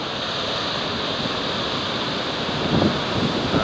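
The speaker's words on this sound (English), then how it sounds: "The waves are perfect." Ocean waves break on an Outer Banks beach in a light breeze, a constant near rushing surf with wind noise, swelling slightly louder toward the end, with no talking.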